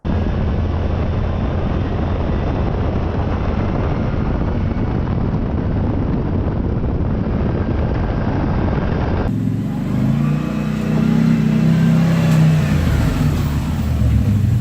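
A CFMoto ZForce side-by-side with a half windshield is driven, its engine droning loudly and continuously under heavy wind rush, the tone shifting partway through as revs change.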